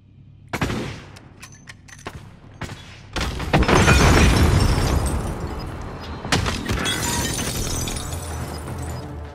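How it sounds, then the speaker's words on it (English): In the shooter game Warzone, an enemy precision airstrike arrives as a few sharp cracks, then a heavy, sustained roar of explosions with crackling debris, followed by another loud blast that rumbles away. The impacts are close and dominant. "Enemy precision airstrike. Get down."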